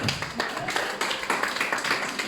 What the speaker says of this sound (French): Merci d'applaudir Tricia et Julien quand même.